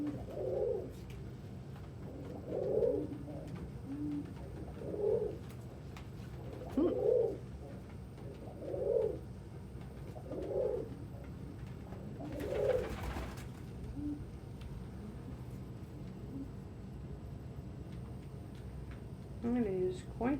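Pigeons or doves coo in a series of soft, low, rounded calls repeating every couple of seconds at close range, with a steady background murmur, a brief burst of noise near the middle, and a voice faintly speaking.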